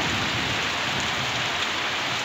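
Heavy rain pours down in a dense, continuous roar of drops beating on surfaces, loud and unbroken throughout with no voices.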